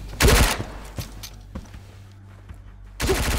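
Gunfire in the VR game ConVRgence: two short, loud bursts of rapid shots at the start and end, with faint clicks and thuds in the quieter stretch between.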